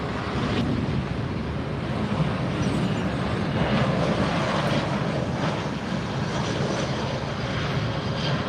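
A JetBlue jet airliner at Fort Lauderdale airport produces a steady, loud broadband engine roar that holds evenly throughout, with wind rumble on the microphone and no voices.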